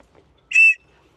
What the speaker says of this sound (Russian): Всегда в любом спасательном жилете у нас есть свисток.